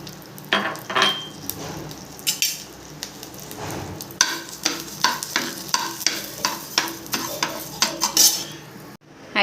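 Rice dry-roasts in a hot pan for idli powder, with a spoon scraping and stirring it in repeated clinks and rattles over a soft, steady sizzle, close and clear with no voices.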